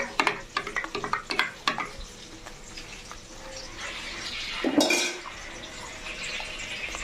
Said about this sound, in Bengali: এই যে মাংস আলু ভাজা চলছে